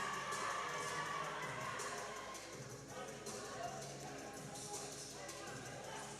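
Spectators at a college volleyball match between NHTI and CMCC cheer and shout in a loud, steady indoor din, with a commentator's voice running over the crowd noise.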